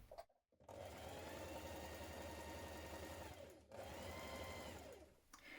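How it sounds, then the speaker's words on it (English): A sewing machine runs a centre front seam on a garment, its rapid needle chatter loud and close, stopping briefly near the start and again midway before running on. "So I'm going to stitch this all the way up the front."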